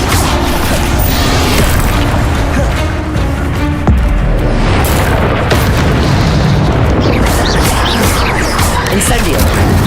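An Incendio fire spell blast in Hogwarts Legacy, a deep booming burst inside dense, loud combat noise, with further rumbling hits and crackling following through the fight.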